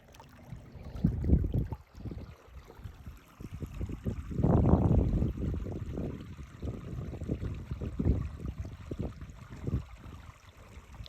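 Water flows and trickles in a stream beneath a walking path on a nature walk, with uneven splashing gurgles that swell and fade at low to moderate loudness and no talking.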